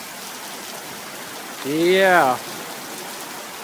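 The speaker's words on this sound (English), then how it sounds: "It's raining a little bit hard." Hard rain falls outdoors as a steady, even hiss of drops on surfaces, with a brief spoken word partway through.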